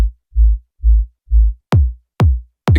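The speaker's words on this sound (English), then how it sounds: "We have a low kick," A low kick drum sample for melodic house, played as a run of deep, round sub thumps on a steady beat, then switching to punchier kicks with a sharper attack, loud and isolated.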